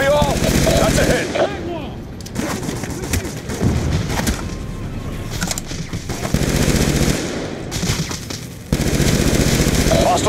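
Rapid machine-gun bursts and gunshots rattle through a Call of Duty Black Ops 2 strike force mission, loud and dense with brief pauses between volleys, radio voices occasionally mixed in.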